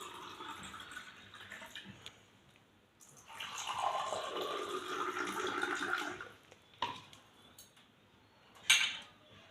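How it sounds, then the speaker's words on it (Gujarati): Water poured into two glass tumblers, one large and one small, a few seconds of steady splashing fill, then a brief splash and a bright clink of glass. "એની અંદર હવે હું પાણી નાખી રહી છું"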